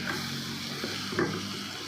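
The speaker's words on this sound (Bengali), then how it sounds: "এবার আমি যে লোটে মাছটা রেখেছিলাম সেটা এর মধ্যে দিয়ে দেবো, দিয়ে পুরো জিনিসটাকে একটু নাড়াচাড়া করবো।" Bombay duck fish being stirred in a frying pan, a soft continuous sizzle with a couple of brief scraping stirs, close and alone without talk.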